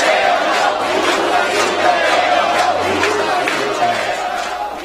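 A large crowd at a May Day gathering in Cuba with visiting American activists and the Cuban president cheers and claps in a steady, loud, dense roar, with shouts and voices mixed throughout.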